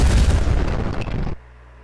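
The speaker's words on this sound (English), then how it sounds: "Blue assassinates Principal with an explosive." An explosive blast in the video game 1000xResist, a dense booming rumble with crackling bursts lasting over a second, then cutting off abruptly to near silence.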